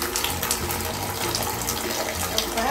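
Water gushes from a tap into a bathtub in a steady, loud splashing rush that lasts throughout.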